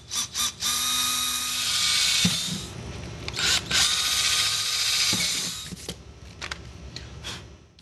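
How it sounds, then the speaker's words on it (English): Power drill boring holes into a motorcycle saddlebag: several whining bursts of the motor, some long and steady, others short, close and loud with no talk. "Remove the bag and drill some holes."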